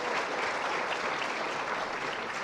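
An audience at a live talk show applauding: dense, steady clapping from many hands, loud and close, running without a break and without voices.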